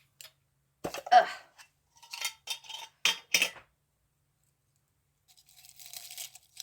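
Oven-dried dehydrated onions crunch and crackle in close, sharp bursts separated by brief pauses, with a softer rustle at the end and no speech.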